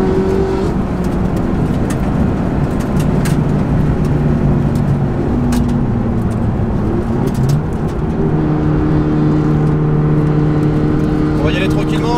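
A Peugeot 308 ByFactory with a stock 270-horsepower engine drones loudly and steadily around the Nürburgring circuit, its pitch rising and falling through gear changes. Interior road roar stays constant throughout.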